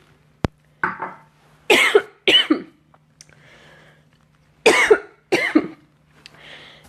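A person with a dry, irritated throat breaks into a coughing fit, several harsh close-up bursts in irregular clusters with short pauses, plus a sharp click at the start and quiet breathing between bouts.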